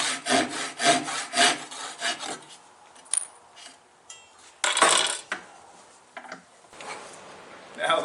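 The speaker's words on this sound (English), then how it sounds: "I'm going to make this cut actually in the vise with a dovetail saw." A dovetail saw cuts through wood clamped in a vise, making quick rhythmic rasping strokes up close, followed by a pause with small knocks and then a few more short sawing bursts.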